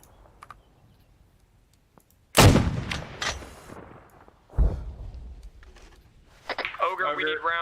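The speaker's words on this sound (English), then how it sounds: "We fired our last round." Artillery in the military game Arma 3 fires in two heavy, booming blasts a couple of seconds apart, loud and close, each trailing off into rumble, with radio-style talk near the end.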